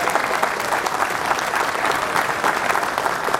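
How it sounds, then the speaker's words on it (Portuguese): An audience gives loud, sustained applause at a public security and organized crime event in São Paulo, a thick, continuous roar of many hands clapping with no pauses. "precisamos receber assim com uma salva de palmas"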